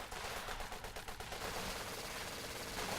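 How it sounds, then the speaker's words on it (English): Rapid rattling bursts from a base machine gun in a WWII strategy game, quick repeated shots in the first second blending into dense continuous battle noise, fairly faint and distant. "Base MG is going to put some fire out"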